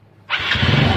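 A Yamaha Mio motorcycle engine, just repaired with a new one-way starter clutch, cranks on the electric starter and catches at once, then runs loud and steady at close range without talk.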